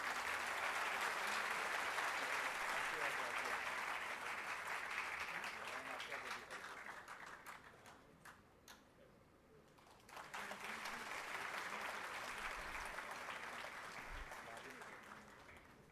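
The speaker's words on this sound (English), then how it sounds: "Ladies and gentlemen, a big round of applause." Steady applause from a ceremony audience at a 75th-anniversary valedictory event, a dense continuous wash of clapping that dips briefly in the middle before swelling again, heard at moderate distance.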